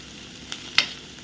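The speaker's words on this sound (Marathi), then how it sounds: "आता कांदा हा आपला परतून झाला आहे चांगला" Chopped onion sautés in a pan with green chilli and red chilli powder for a simple Marathi leafy vegetable dish. A soft sizzle is broken by two quick scraping clicks of a spoon stirring against the pan.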